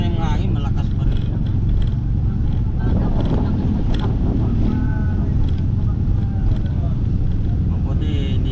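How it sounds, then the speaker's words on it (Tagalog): Strong typhoon wind roars steadily and loudly across the microphone, a constant rumbling buffet with people talking underneath. "Pero ano pa rin yung hangin, malakas pa rin."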